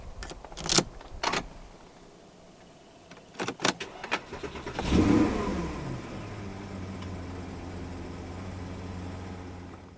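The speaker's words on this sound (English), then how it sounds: "To start the Cayenne, put your foot on the brake, insert the key into the slot right here, and then just twist the key." A 2008 Porsche Cayenne GTS is started with a turned key: a few clicks and jangles, then the engine cranks and fires with a loud rev near five seconds before settling into a steady, rumbling idle close by.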